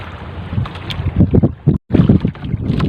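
Cold amihan monsoon wind blowing at sea on a small fishing boat, loud buffeting gusts pounding the microphone in uneven bursts with a brief dropout.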